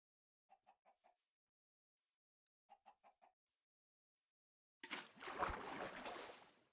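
Chickens in a video game server cluck in two short bursts of four quick notes each, then loud broadband noise takes over, sounding like rushing water or movement.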